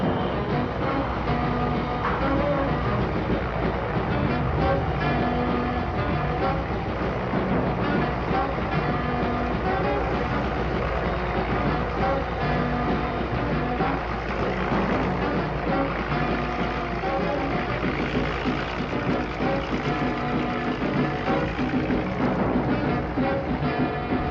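Heavy machinery from a mobile car crusher working at a dumping ground, shown in 1965 Britain flattening whole cars: a dense, continuous mechanical roar with clanking and grinding that stays loud and steady throughout, without speech.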